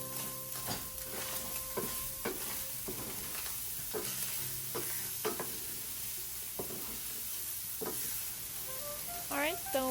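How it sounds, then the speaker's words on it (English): Ground beef and chopped onions sauté in a pan with a soft, steady sizzle. A spatula scrapes and stirs through it at irregular intervals, with faint clinks and one brief squeaky scrape at the end. "chop up some onions and get that into our beef. Let that saute for a little bit."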